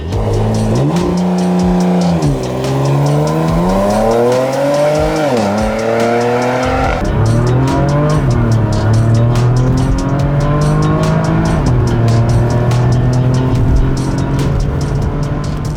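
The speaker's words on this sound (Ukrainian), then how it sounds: "А поки Launch Control і вперед." A Porsche Macan S SUV launches hard under launch control, its loud engine climbing steadily through the revs with clear gear shifts, strong and close for the whole run without any talk.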